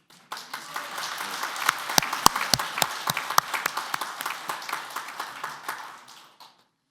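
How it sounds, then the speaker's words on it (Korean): A church gathering at a men's mission prayer meeting breaks into applause, a warm burst of clapping that builds, holds with a few sharp claps standing out, then fades away. "감사의 박수 드릴게요."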